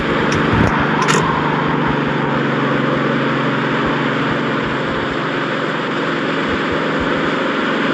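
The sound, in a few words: four-cylinder car engine running in snow storm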